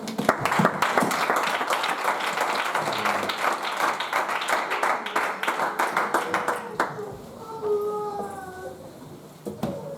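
A church congregation at an evangelism service claps in a loud, sustained burst of applause for about seven seconds, then fades to sparse claps as a voice rises in a drawn-out tone.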